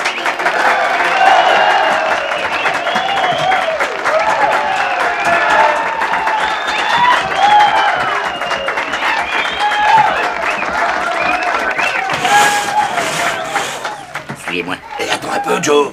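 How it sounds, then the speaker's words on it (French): A theatre audience claps steadily after a Western-themed stage show, a dense continuous applause with scattered cheers and chuckles, people talking over it, then thinning out briefly near the end. "Tu entends, ils applaudissent."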